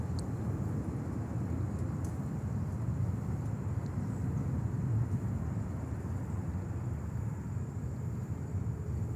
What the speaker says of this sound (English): this National 747 coming in